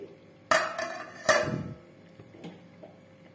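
Metal pot lid clattering onto a cooking pot after ghee goes in: two sharp clanks close together, then a few lighter taps and a fading ring.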